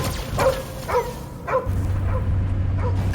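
A dog in Marvel's Guardians of the Galaxy video game lets out five sharp barks at a steady pace, close and clear, over a low humming game soundtrack.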